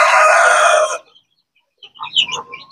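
Chickens and a rooster at a poultry farm after very heavy rain, with a loud close crow that cuts off after a second, then a short pause and a few softer clucks and calls.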